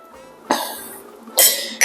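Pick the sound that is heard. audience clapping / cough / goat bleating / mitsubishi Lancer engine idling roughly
cough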